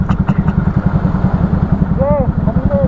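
A motorcycle engine runs steadily and loud close by while a rider carries a passenger on the back, with people talking over the throbbing motor.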